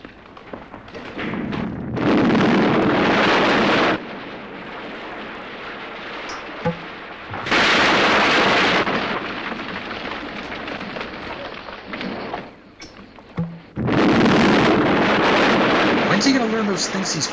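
Film explosions erupt in three heavy, roaring bursts of a couple of seconds each, loud and broadband, with quieter rumbling stretches between them on a movie set.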